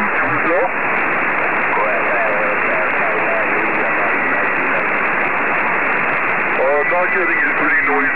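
Noisy amateur radio signal relayed through the RS-44 satellite, a loud hiss of static with a warbling voice buried in it, band-limited and crackling throughout.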